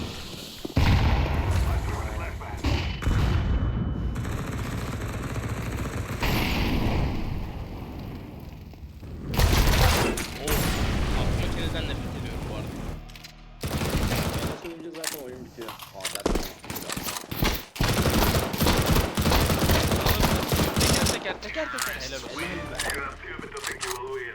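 Light machine gun fire from the video game CS2: dense, loud bursts of shots with sharp gaps, mixed with other gunfire and blasts, while people talk over the action.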